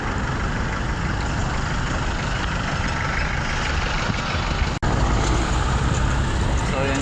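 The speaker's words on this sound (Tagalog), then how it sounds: "wag magtaka na maraming mga sasakyan dito" Many vehicles idle at a busy ferry pier, 2GO Pier 4, with a steady low engine rumble and broadband traffic noise throughout, plus one brief dropout; no clear voices.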